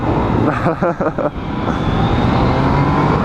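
A 2016 Yamaha XSR 900 motorcycle engine accelerating on a test ride, a loud close roar with rapid revving pulses early on, then steady engine and wind noise.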